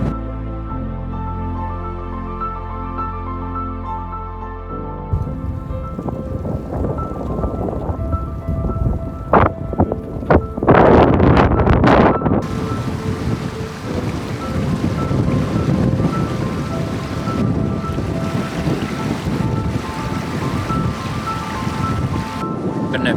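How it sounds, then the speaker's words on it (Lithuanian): Strong crosswind buffeting the microphone while cycling along a road in Iceland, heavy rumbling gusts that swell and build into a loud, continuous roar after a musical intro. "Sukyla šoninis vėjas, biškį blaško po kelią."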